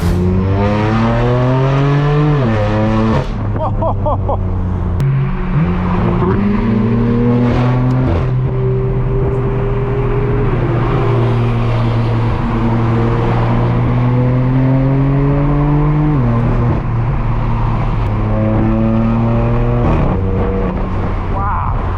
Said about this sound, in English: I love how raspy this car gets once you open up those wastegates and get on the throttle. Not to mention the burbles.